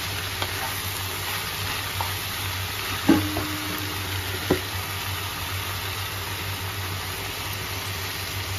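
Chopped jute leaves lightly frying in a pan, a steady soft sizzle over a low hum, with a couple of sharp utensil knocks partway through.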